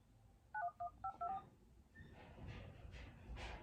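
Telephone keypad tones sound as about six short, clear beeps dialed in quick succession, followed by a faint hiss and soft rustling.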